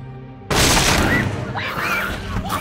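Gunfire from the zombie film 28 Weeks Later, a medical commander shooting an infected: a sudden loud blast of shots and crashing noise after a quiet start, with faint shouts and cries mixed in.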